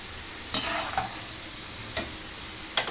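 Curry leaves dropped into hot oil just after the stove is switched off while making kaaram boondi, giving soft sizzling crackles with a few sharp stirring clinks, close by and with no talk.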